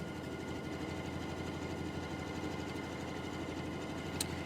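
A sewing machine stitching fabric for quilting runs continuously at an even pace, a close, steady mechanical whirr with a rapid needle rhythm throughout and one brief click near the end.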